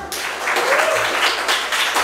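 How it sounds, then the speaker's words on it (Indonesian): Audience applause at a Kamen Rider Geats fan talk show in Bandung, a steady wash of crowd clapping that holds through the clip, fairly loud and close, with no talk over it. "Tepuk tangannya dulu dong."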